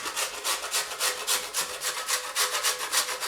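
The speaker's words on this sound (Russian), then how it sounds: "Одну часть разворачиваю и на крупной терке буду натирать." Dough is rubbed over a coarse grater onto a baking tray in quick, even rasping strokes, roughly four per second. The scraping is close and fairly loud, with no talking.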